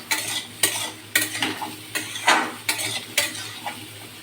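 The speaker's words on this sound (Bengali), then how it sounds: "তেলের মধ্যে পাঁচফোড়ন আর জিরার সাথে একটু ভেজে নেব।" Mango pieces fry in oil with panch phoron and cumin while a spatula stirs in regular scraping strokes against the pan, about two per second, over a quiet, steady sizzle; no voices.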